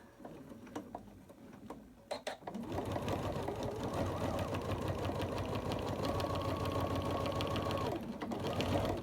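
A sewing machine stitches a cover for an overlocker, starting after a few clicks and taps, then running as a fast, steady mechanical whir close by, pausing briefly near the end before resuming.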